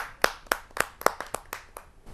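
Slow, distinct hand claps at a Hindi poetry gathering as a poet is welcomed, about eight separate sharp claps in an even rhythm, sparse and fairly quiet rather than a full crowd.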